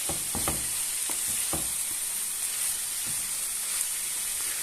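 Kefta meat frying in a pan, a steady close sizzle and hiss running throughout, with a few soft scraping knocks of stirring near the start.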